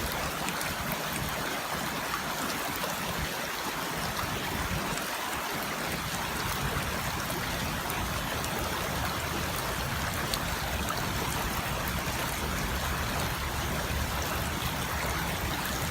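Water trickles steadily through a Katadyn BeFree 0.6 L squeeze filter into a half-liter container, a continuous soft splashing flow heard close and alone for the whole stretch.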